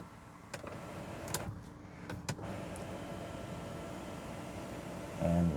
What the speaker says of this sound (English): Now opening up the sunroof, you can see the little wind deflector comes up there.